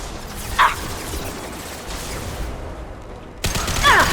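Impact shot gunfire in the video game Mass Effect 2: a sharp burst near the start and another sharp crack near the end over a low, steady rumble of combat ambience, with no voices.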